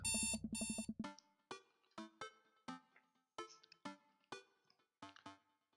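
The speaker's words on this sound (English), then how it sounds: "I jolt awake to the sound of my alarm." In the video game Dream Daddy, an alarm clock rings with a dense buzzing burst, then settles into a repeating pattern of distinct, evenly spaced chiming beeps.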